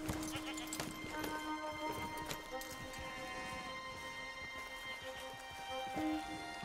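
Horse hooves clip-clop in Red Dead Redemption 2 as horses are ridden across open ground, an irregular, fairly close hoofbeat rhythm with a brief whinny and background music.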